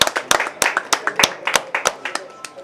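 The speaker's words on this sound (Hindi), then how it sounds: "उनके लिए एक बार तालियां।" Audience at a special film screening claps in short uneven bursts, a few sharp individual claps close by rather than a full ovation, with a voice faintly underneath.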